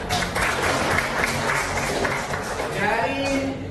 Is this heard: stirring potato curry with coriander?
no